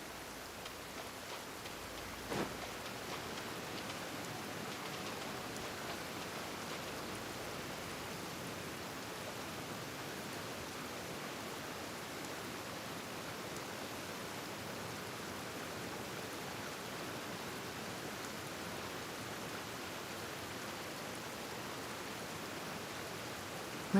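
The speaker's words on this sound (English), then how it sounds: "I like the rain." Steady rain in the Genshin Impact game world, a constant even hiss of falling drops that stays at one level throughout with no voices over it.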